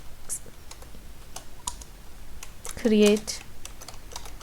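A SQL query typed on a computer keyboard: a run of light, irregular key clicks close by, with a brief spoken word partway through.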